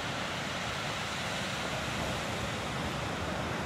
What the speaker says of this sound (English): Sounds of the waves.